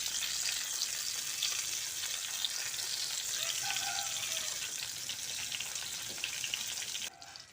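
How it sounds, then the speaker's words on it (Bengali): Continuous crackling sizzle of eggplant slices frying in hot oil, close and steady, fading slightly near the end. "বেগুনগুলোকে উল্টে পাল্টে লালচে করে ভেজে নিতে হবে"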